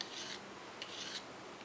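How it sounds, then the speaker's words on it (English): A scraper's edge is stroked in arcs along a sharpening stone dressed with chromium oxide honing compound, giving about three short, close, quiet rasping strokes. "I stroke it along the stone in an arcing motion."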